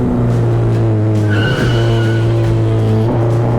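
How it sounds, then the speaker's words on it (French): A Formula 4 race car drifts on a circuit, its tyres skidding and squealing over a loud, steady engine drone with brief shifts in pitch, all close and intense without pause. "J'en suis même arrivé à un point où j'ai commencé à faire du drift."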